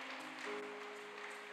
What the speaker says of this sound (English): Leave a clap of you unto the Lord.